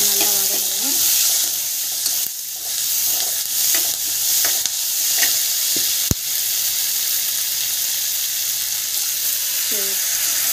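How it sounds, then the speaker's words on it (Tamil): Vegetables sauté with rock salt in a pan, giving a continuous bright sizzle broken by scraping stirs and a few sharp knocks of the spoon against the pan. "கல் உப்பு வந்து போட்டுக்கோங்க, அப்போ தான் வந்து டேஸ்ட் நல்லாயிருக்கும். ஸோ இது நல்லா வதங்கணும்."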